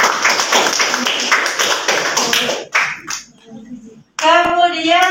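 Classroom clapping at a teacher training session, a burst of hand claps over a murmur of voices that fades out after about three seconds, then a voice speaks briefly.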